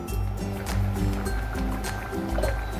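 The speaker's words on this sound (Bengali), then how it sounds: "দেখুন ঝোলটা ফুটে গেছে" Bengali fish curry broth with snakehead fish and ridge gourd boils in a covered pan, a steady low bubbling rumble with soft irregular pops and a faint hum running through.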